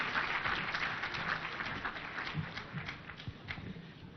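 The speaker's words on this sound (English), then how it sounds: "A lot of applause for our speaker." Audience applause for a speaker at an event, a steady wash of clapping from many hands that tapers slightly toward the end, moderately distant.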